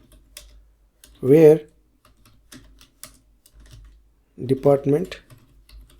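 Soft, scattered key clicks from an SQL query being typed on a computer keyboard, faint and intermittent between two short bursts of someone speaking.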